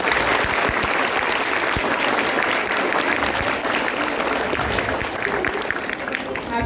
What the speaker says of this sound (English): Then clap for everyone.